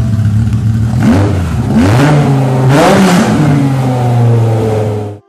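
A BMW S85 5-litre V10 engine from the E60 M5 revs hard and high toward 8,250 RPM, climbing and falling through several sharp pitch sweeps before the sound cuts off abruptly.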